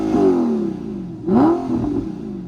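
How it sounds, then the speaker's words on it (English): An Audi R8 V8 with a gated manual idles, then revs up twice, the pitch sweeping upward with each blip before settling back, close and loud. "I'll give you guys just a little bit of revs on the inside here."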